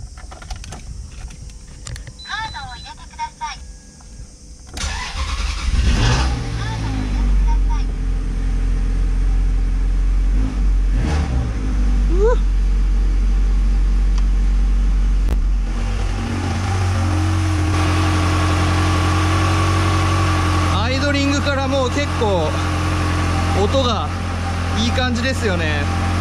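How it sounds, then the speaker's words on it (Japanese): A Ferrari F360 Modena F1 with its V8 is key-started: a quiet stretch with faint clicks, then the starter cranks, the engine catches with a loud deep bark and settles into a steady rumble, with rising revs and someone speaking over it. "では早速エンジン始動していきます。"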